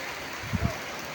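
Rain falls steadily in Birampur, Dinajpur, making a dense, even hiss throughout with a couple of brief low thumps near the middle.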